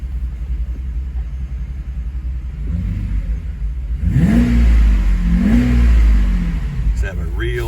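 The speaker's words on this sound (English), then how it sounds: "Have a real deep sound with that catback Renntech exhaust on them" A large Mercedes SL R129 7.4-litre Renntech V12 with a Renntech catback exhaust starts and revs in two deep swells, rumbling loudly up and down before settling into a throaty idle.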